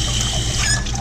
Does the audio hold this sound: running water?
yes